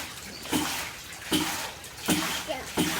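A hydraulic ram pump beating with water, four evenly spaced splashy thumps about every 0.8 seconds, like a steady heartbeat, each with a short burst of rushing water over a constant background wash.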